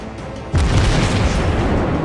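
Warship guns fire in the World of Warships Blitz naval game, a heavy booming blast that erupts suddenly and rolls on as a broad sustained rumble, loud and without talk.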